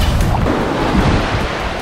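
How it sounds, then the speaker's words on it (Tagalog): Strong surf at Capones Island, Zambales, a loud, continuous roar of breaking ocean waves mixed with wind buffeting the microphone, with no voices. "Ang lakas ng alon."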